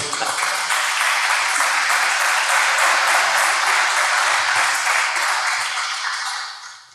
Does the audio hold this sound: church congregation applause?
yes